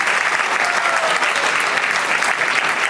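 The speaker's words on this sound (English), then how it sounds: "have another round of applause for Shreyas and her beautiful dance" Audience applause following a dance performance at a Hare Krishna 50th anniversary gathering in Melbourne, a steady dense burst of clapping from a large crowd filling the whole moment.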